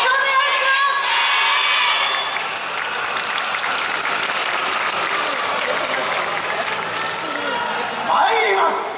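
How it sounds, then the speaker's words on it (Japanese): Crowd at a yosakoi dance performance at the main station-front venue of the Tokyo Yosakoi festival, loud sustained applause with cheering, whoops and children's shouts, and voices heard mixed in throughout. "温かい拍手応援よろしくお願いします。"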